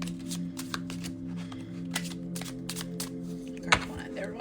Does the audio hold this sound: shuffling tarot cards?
yes